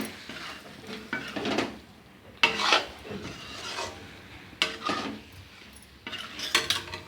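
Ivy gourd (kundru) is stirred and roasted in masala in a pan, with a soft sizzle under a run of irregular scraping strokes from a spatula, close and fairly faint, with no talk.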